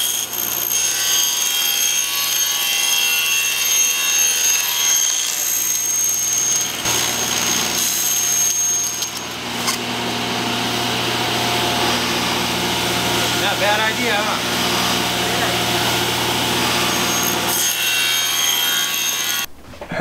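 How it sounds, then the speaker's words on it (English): A jigsaw cuts an opening through a skoolie bus roof or ceiling for a Maxx Fan Deluxe. The buzzing cut runs loud and continuous for about twenty seconds, with a brief dip midway before stopping abruptly at the end. "What are you going to cut this with? Probably the jigsaw."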